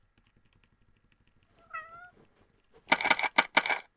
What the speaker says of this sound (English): Hello again, cat.